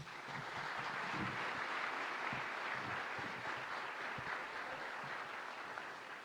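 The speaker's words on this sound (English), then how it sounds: "Let's give them a round of applause." An audience applauds at a Clark County School District State of the Schools address, a sustained, even round of clapping heard from a distance in a large hall with no talking.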